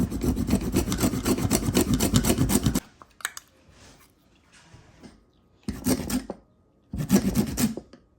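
A lime is zested on a grater in a home kitchen, with a close, rasping scrape repeated in quick strokes for about three seconds, then a pause and two shorter bursts of scraping.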